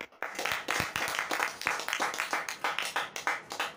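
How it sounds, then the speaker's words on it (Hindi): An audience at a school event claps for a performer, a near, dense burst of applause that starts abruptly and carries on steadily without talk. "तो आपकी भरपूर तालियों में शफाकत रहसानी"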